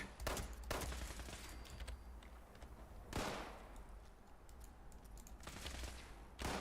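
Gunfire from shooting mutants in the video game Fallout 76: several rapid bursts of shots spread across the clip, fairly quiet overall, with no talking.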